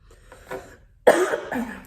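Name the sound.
cough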